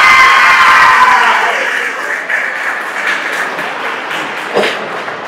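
Loud applause fills a hall at a college farewell party as students clap for their teachers, starting strong with cheering and shouts, then easing to scattered, fading claps.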